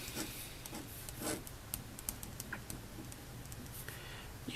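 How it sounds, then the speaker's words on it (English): Faint repeated scraping strokes of a round head knife blade being sharpened, with irregular light ticks and rasps spaced through the quiet. "you can sharpen the flat side first, and then you can sharpen the bevel"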